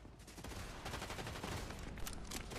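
Rapid gunfire from shooting AI enemies while looting in a Fortnite Duos match, dense and continuous bursts with sharper cracks near the end, loud and steady throughout.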